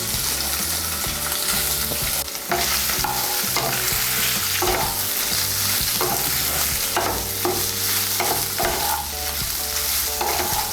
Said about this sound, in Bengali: তুলে নিয়ে এই তেলের মধ্যে আমি সোয়াবিনগুলো ভেজে নেব।